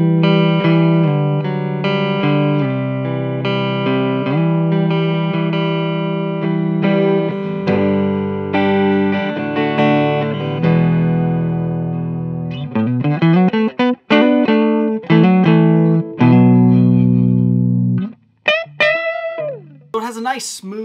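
Warm, smooth electric guitar on the neck P90 pickup of a 2019 Gibson Les Paul Gold Top, playing chords and then single-note runs, sustained and resonant with light reverb, with no talking over it.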